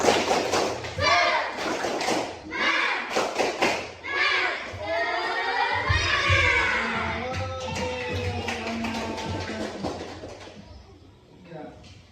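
Children in a classroom perform a rhythmic spirit clap, sharp clap bursts in quick patterns mixed with their chanting voices, fading toward the end.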